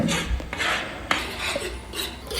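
Egg bhurji being sautéed in a pan, heard mostly as a utensil scraping and clinking against the pan in quick strokes, with one sharper knock near the middle.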